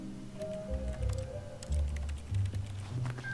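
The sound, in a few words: keyboard-like click when firing mouse 1 in The Stanley Parable video game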